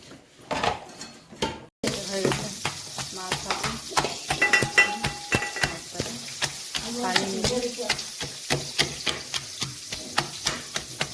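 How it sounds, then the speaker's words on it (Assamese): Small pieces of fish, cut from the belly, fry in hot oil with a loud close sizzle, broken by repeated clinks and scrapes of a spatula against the pan, while a voice talks over the cooking. "এতিয়া সৰু পিচ ভাজি কৰিছোঁ"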